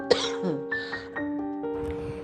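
A cartoon woman, a young daughter-in-law, gives a light cough followed by a short throat-clearing sound, close and clear over a soft background music tone.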